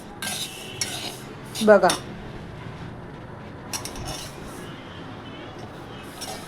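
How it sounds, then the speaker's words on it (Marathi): Sesame seeds roasting over low heat in a pan as a spoon stirs them, giving soft scraping and a few sharp metallic clinks against the pan, with a brief spoken word in the middle. "कसे तीळ आता छान भाजले गेलेत।"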